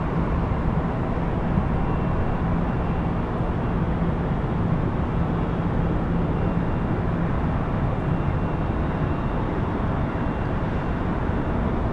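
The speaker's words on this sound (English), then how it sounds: "flight 269 coming in from London Heathrow" A jet airliner on flight 269 from London Heathrow lands at LAX, its engines a steady broadband roar that holds for the full stretch, loud and continuous with no talk over it.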